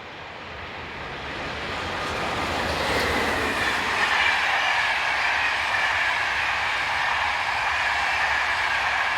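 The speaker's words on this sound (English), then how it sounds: "(7235) heads through the station's fast lines, with the 1837 from Paris to Tours." SNCF electric locomotive 7235 hauling a Paris to Tours train at speed through a station on the fast lines, a loud rising rush of wheels and rail noise that swells and holds steady with faint squeal.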